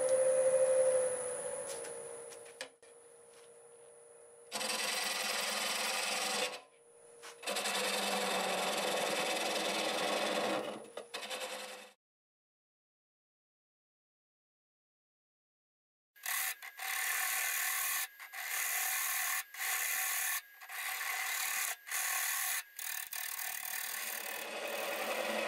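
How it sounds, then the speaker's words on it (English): Black oak turned on a wood lathe at about 600 RPM with a half-inch bowl gouge, bursts of scraping and hissing cuts separated by pauses and a silent gap, with rhythmic ticking toward the end. "Start out with a 1/2-inch bowl gouge. Maybe about 600 RPM."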